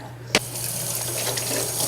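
Warm water runs steadily from a kitchen tap into a sink, a short splash at the start settling into a continuous, close hiss with a low hum beneath.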